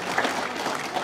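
A crowd claps at a Bütün Kyrgyzstan party rally in Naryn, a dense, steady patter of many hands held at even loudness for about a second.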